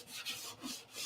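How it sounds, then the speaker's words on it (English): Close, rhythmic rasping strokes of 320-grit sandpaper rubbed over the wooden nose of a P-47 scale model, several short passes in quick succession. "But the sanding begins now, and the woodwork's pretty close to being done"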